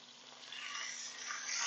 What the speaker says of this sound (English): Okay, we got good sizzle going on.